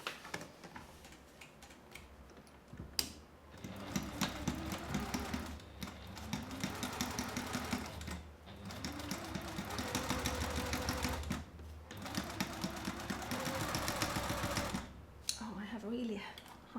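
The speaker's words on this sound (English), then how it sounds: "So now I'm going to sew along the bottom first, before we divide it into pockets." A sewing machine stitches along the bottom of a fabric zip bag in bursts of rapid mechanical whirring, stopping and starting several times with short pauses between runs, close and steady.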